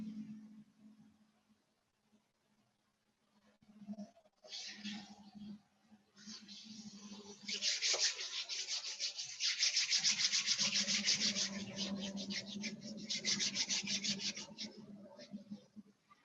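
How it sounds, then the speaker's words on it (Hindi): Hands rubbing over the body during a morning breathing and sound practice, soft brushing friction strokes that start faint after a low hum and grow into steady, close rubbing. "और बॉडी को थोड़ा सा रब करना शुरू करेंगे।"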